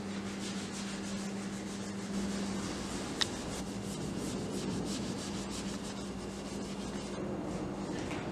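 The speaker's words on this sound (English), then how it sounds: "we're going to use a 220 grit sandpaper, followed by 500 grit sandpaper, and then Scotch-Brite to get into the hard to reach places" Car wheels being hand-sanded with 220 and 500 grit sandpaper, a continuous close rubbing scrape over a steady background hum, with one brief sharp tap partway through and no talking.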